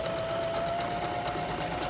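A sewing machine runs steadily as it stitches a zigzag seam finish along a fabric edge. The motor gives a continuous close whir with a faint rapid needle patter, and no one speaks.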